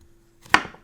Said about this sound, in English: So I like to just cut the core right out,